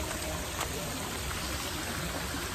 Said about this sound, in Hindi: ये चल रहा है झरना, और ये जो पानी है वो वहीं जा रहा है